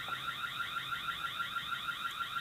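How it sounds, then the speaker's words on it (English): A Tapo C520WS security camera's loud electronic siren warbles continuously in a rapid repeating rising pattern, steady and unbroken with no voices. "We can test the siren"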